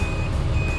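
Reverse warning beep from a Suzuki Every Wagon DA64W 4x4 turbo as the shift lever goes into R, a steady tone held over the low idle rumble of the engine, close and fairly loud.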